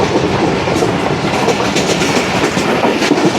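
Shalimar Express train rolling through Pannu Aqil station, a steady loud rumble with rhythmic clickety-clack of wheels over rail joints throughout, heard from on board.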